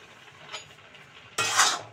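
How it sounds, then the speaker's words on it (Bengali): A metal lid comes off a pot of pineapple chutney cooked without oil, with a light clink, then a sudden loud rush of steam and bubbling simmer, close up and with no voices. "ঢাকাটা একবার খুলে দেখি এখন কি অবস্থায় আছে।"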